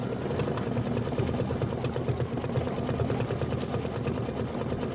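Embroidery machine stitching a watermelon mini quilt block in its hoop, a steady, even mechanical whir with a fast repetitive needle chatter throughout, close and alone with no talking.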